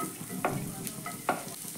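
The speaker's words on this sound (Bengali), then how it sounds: "পেঁয়াজটাকেও আমি একটু ভেজে নেব।" Chopped onions hit hot oil in a kadai after ginger, sizzling steadily with two sharp scrapes of a spatula stirring through them, close and alone without any talk.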